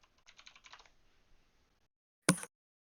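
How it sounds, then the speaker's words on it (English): Fingers tap quickly on a computer keyboard in a soft, quiet burst of keystrokes that fades out. After a brief pause, one louder click or clack follows. "He's typing."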